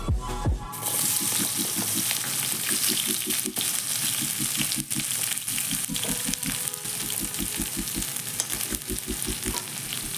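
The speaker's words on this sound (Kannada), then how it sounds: "ಇವಾಗ ಇದನ್ನು ಚೆನ್ನಾಗಿ ಫ್ರೈ ಮಾಡ್ಕೋಬೇಕು. ಫ್ಲೇಮ್ನ ನಾನಿಲ್ಲಿ ಹೈ ಫ್ಲೇಮೇ ಇಟ್ಕೊಂಡಿದ್ದೀನಿ." About a quarter kilo of thinly sliced onions frying in hot oil over a high flame, a loud, dense sizzle with steady crackling close by, and a faint rhythmic clatter beneath it.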